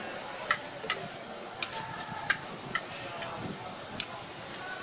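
Churros frying in hot oil: a soft, steady sizzling hiss broken by sparse, sharp crackling pops at irregular intervals, fairly quiet and close.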